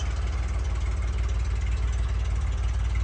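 A 1997 Honda Goldwing motorcycle engine idling steadily with a constant low, even rumble, close and fairly loud, with no talk over it.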